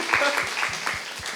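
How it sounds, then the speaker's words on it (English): Applause from a PyCon UK 2025 conference audience rises as a quiet patter of scattered clapping beneath a voice that talks throughout. "Big round of applause for Jack for getting that all set up and ready"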